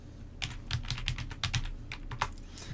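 Fingers type on a computer keyboard to rename a folder, a close, steady patter of light key clicks at an uneven, fast pace, alone without speech.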